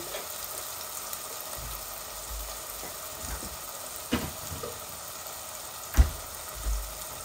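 Ginger garlic paste sizzles in oil in a pan with a soft, steady frying hiss, broken by a few clinks and stirring knocks, the loudest near the end.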